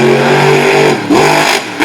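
Monster truck engine roaring as it races around a dirt track in Sarver, Pennsylvania, with sustained loud revving, a brief dip in power near the end and the engine pulling hard again.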